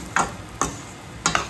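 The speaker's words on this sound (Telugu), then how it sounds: "మరో 5 నిమిషాలు వేయించుకోవాలి. మసాలా అంతా వేగితే టేస్ట్ వస్తుంది బాగా." Prawn curry masala frying in a pan, marked by three sharp scraping stirs over a soft background sizzle, close and clear, with no talking.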